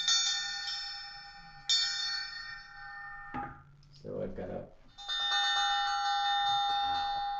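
Synthesizer playing an elephant bell patch, two bright metallic tones ringing out and decaying, then a later sustained strike, with someone speaking briefly in between.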